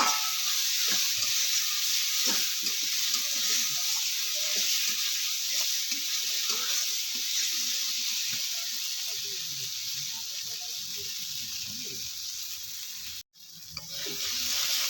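Spice paste sizzling as it is sautéed in a pan, a soft, steady hiss with faint scraping and stirring taps, briefly cut off near the end.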